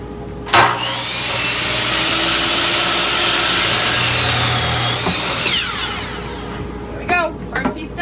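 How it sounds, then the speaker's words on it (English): A power saw runs steadily through a wooden board in a workshop for about four seconds, loud and close, then winds down, followed by a few brief clattering knocks. "Okay, I'm cutting my first piece, which is 72 inches."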